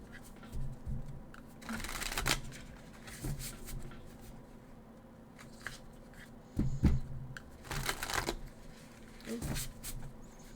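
Repeated bursts of tarot cards being shuffled, each a quick riffling rustle, close and fairly soft, separated by short pauses.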